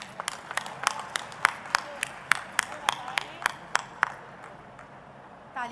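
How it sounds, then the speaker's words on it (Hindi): Audience clapping at a women's self-help group orientation and dialogue programme in Madhya Pradesh, heard as a run of sharp, separate claps in a steady rhythm that thins out and stops near the end. "तालियों की गूंज बहुत तेज आनी चाहिए"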